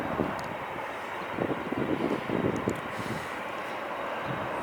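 Heavy jet aircraft at LAX airport, a broad steady engine roar with a low rumble that swells slightly in the middle, fairly loud and continuous with no voices.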